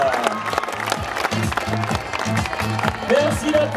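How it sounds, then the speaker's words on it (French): Audience applause at a youth cycling awards ceremony, scattered clapping and crowd noise beneath a rhythmic musical beat, with voices audible in the mix. "Merci d'applaudir bien fort, le Rhône-Alpes en deuxième position."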